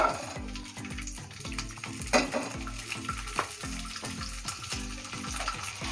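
Green beans, about 200 grams cut into medium pieces, sizzle in a little oil in a kadhai, with steady frying hiss and repeated scraping stir strokes throughout.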